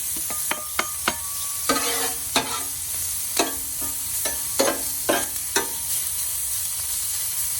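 Chopped bacon and spicy sausage sizzle on a Blackstone flat top griddle, a steady close hiss of frying broken by a run of sharp metallic spatula scrapes and taps as the meat is stirred and spread.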